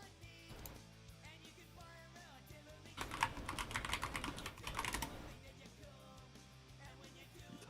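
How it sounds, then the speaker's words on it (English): Typing on a computer keyboard indoors, a quick run of key clicks that bursts into a louder, faster flurry midway, heard close over a faint background. "You typing?"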